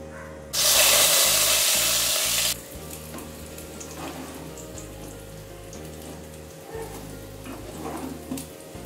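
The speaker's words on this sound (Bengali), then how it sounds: "আমার ননস্টিকের কড়াটা একটু ফ্ল্যাট, ওই জন্য এটা ভাজতে একটু দেরি হচ্ছে।" Potatoes fry in oil in a flat nonstick pan, a loud steady sizzle for about two seconds that then settles into a quieter crackle and spatter.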